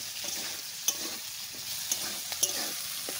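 Chilli chicken with ground pepper paste and a little sugar sizzles softly in a pan, a steady quiet fry broken by a few sharp scrapes and clicks of stirring.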